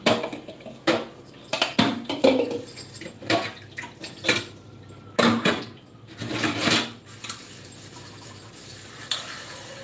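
Dishes, pots and metal utensils clatter and clink in bursts close by, with busy handling noise between the louder knocks.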